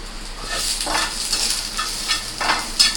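Onion and garlic fry in a pan for a pointed gourd peel mash, a steady close sizzle broken by several soft scraping stirs of a spatula, with no talking.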